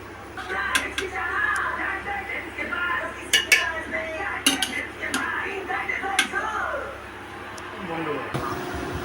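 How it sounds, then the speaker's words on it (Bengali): Biryani rice is mixed over meat in a metal bowl, producing repeated sharp clinks and scrapes of a metal utensil against the bowl, close and irregular, with people talking underneath. "এই মাংস আছে গামলিতে নিচে, তার উপরে এই যে ভাত মেশাচ্ছে"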